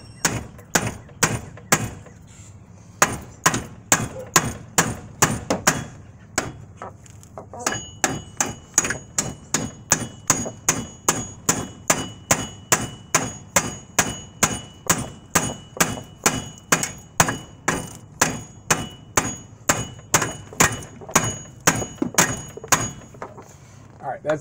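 Steady hammer strikes drive wheel hub bolts into a 2010 Chevy Impala hub during wheel bearing replacement, dozens of sharp metallic taps in a fast, even rhythm with a brief pause early on, loud and close.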